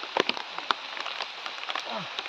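Heavy typhoon rain patters steadily on a surface, with scattered drops and clicks, a few faint voices and movements in the background.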